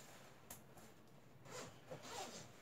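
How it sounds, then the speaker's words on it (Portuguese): Zipper on a Deuter Astro EXPD -22C sleeping bag being pulled in a few quick strokes, faint and close, with soft fabric rustling between pulls. "Vou mostrar aqui o zíper grau do contrário aqui para vocês."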